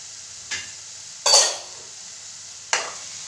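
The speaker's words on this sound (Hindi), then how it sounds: "हिलाते रहेंगे जिससे ये लगे ना, जैसे आप अंडे की भुर्जी बनाते हैं उसी तरह से बनाएं" Eggs stirred and fried with fiddlehead fern greens in a pan, as for an Assamese dhekia saag scramble: three short scraping stirs against a soft sizzle, close and clear, no voices.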